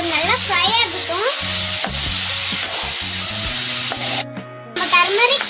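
Chicken pieces frying in a pan give a steady, close sizzle that runs throughout, partly masked by background music with sustained tones.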